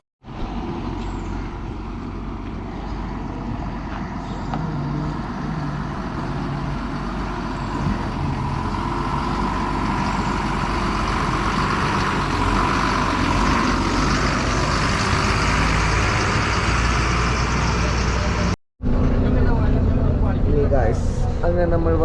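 A car on the road during a Mysore-Coorg trip gives a continuous engine drone and tyre rumble, heard close and steady for over twenty seconds, with a momentary cutout near the end.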